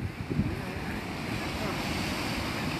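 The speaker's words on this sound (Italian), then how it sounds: "il rumore delle onde è bellissimo" Steady roar of surf breaking on rocks at Polignano a Mare, with broadband wash and wind rumble, waves churning continuously close by; no voices.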